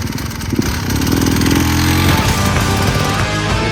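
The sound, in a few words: KTM 300 enduro motorcycle engine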